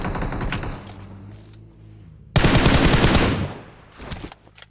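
Automatic gunfire in PUBG Mobile: several scattered rapid shots, a pause, then a sudden loud sustained burst of fire that fades into a few trailing shots, all close and sharp.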